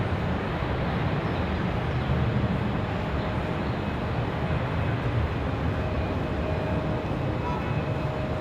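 A Delta airliner arriving from Atlanta passes near Raleigh Durham airport in gusty wind, a steady broadband jet roar holding at moderate level for the whole stretch, with no talk.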